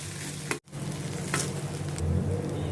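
Crushed coriander seeds and fennel sautéing in a pan, giving a steady close sizzle and crackle broken by a brief clatter near the start, with no talking.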